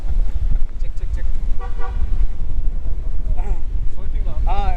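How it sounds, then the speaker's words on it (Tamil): Several short vehicle horn toots sound over loud wind and engine rumble on a road ride from Bangalore to Kodaikanal, with a voice speaking briefly in between. "பக்கத்தில் நான் சொல்லும் போது மட்டும் ஹார்ன் அடிச்சுட்டு போங்க"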